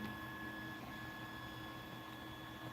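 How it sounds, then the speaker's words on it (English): A 3D printer runs nearby with a quiet, steady mechanical hum and faint stepper-motor whine, holding an even, unbroken drone at low volume with no talking. "Let's watch 3D printer for a minute."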